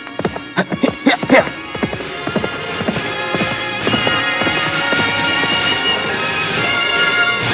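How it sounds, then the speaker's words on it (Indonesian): Hooves of a galloping horse clatter in a quick rhythm in a radio drama, loud and near at first, then blend into a steady rumble with a horse whinnying over the running. "Sebaiknya kuda ini kupercepat langkahnya, biar aku cepat tiba di rumah Paman Hamzah."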